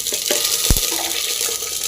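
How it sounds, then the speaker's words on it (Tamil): Mustard seeds drop into hot oil in a home kitchen for a drumstick-leaf and pumpkin-leaf greens dish, giving a brief, steady crackling sizzle with a couple of sharper pops near the middle. "எண்ணெய் காஞ்சிருச்சு கடுகளை போடலாம்"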